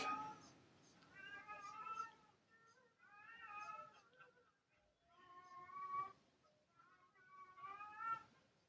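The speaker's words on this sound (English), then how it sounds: "That's a male cat." A male cat meows repeatedly outside, giving a run of loud, drawn-out, wavering calls with short gaps between them and no talk over them.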